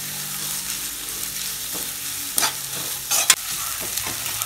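Sautéing in coconut oil in a pan for a Kerala-style roasted-masala chicken curry, an even low sizzle broken by a few brisk spatula scrapes and clatters in the second half.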